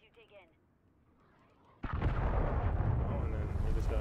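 A sudden explosion in Modern Warfare 3 ranked multiplayer breaks in after a quiet lull, then rolls into a loud, sustained rumbling roar that lasts several seconds.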